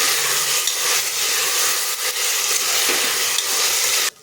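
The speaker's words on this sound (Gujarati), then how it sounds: "હવે આપણે એમાં સ્વાદ પ્રમાણે મીઠું નાખીશું બરાબર બધું મિક્સ કરી લઈશું" Salt is stirred into masala khichdi in a pan with a loud, steady scraping hiss of spoon against the pan bottom under a frying sizzle, which stops abruptly at the end.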